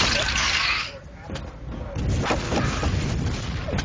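Rocket explosions from rocket jumping in a competitive arena shooter match, heavy low booms and blasts rumbling beneath continuous commentary from a male caster.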